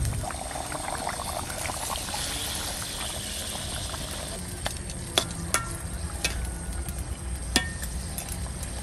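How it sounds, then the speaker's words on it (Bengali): Aar river fish pieces go into a simmering potato curry in a pan, a steady low bubbling and simmer hiss with several sharp clicks and taps of handling near the end, with no voices. "এবার মাছ কয়টা দিয়ে দেবো।"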